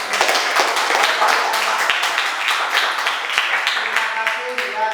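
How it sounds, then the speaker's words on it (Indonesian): Applause from a class of students: a steady, fairly close patter of many hands clapping for several seconds, with talk mixed in underneath. "Aplaus buat."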